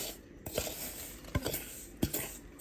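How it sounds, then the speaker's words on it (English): Oreo crumb mixture being tipped and pressed into a cheesecake pan: soft patter and scraping broken by a few distinct metallic clinks of utensil against pan, quiet and close. "now we're gonna add the Oreo mixture to the pan"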